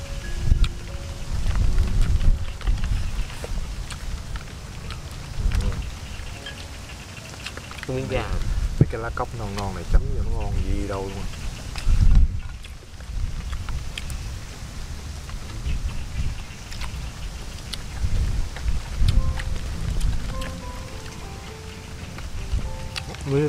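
Rain falls outdoors in a field during a farm-side meal, a steady soft patter running throughout beneath close conversation.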